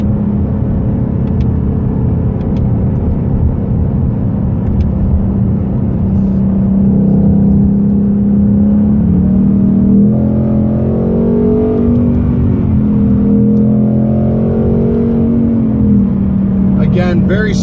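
Ford Mustang with a 10-speed automatic gearbox in track mode, its engine holding a steady rumbling drone that rises and shifts in pitch through smooth gear changes, heard from inside the car with a voice talking over it.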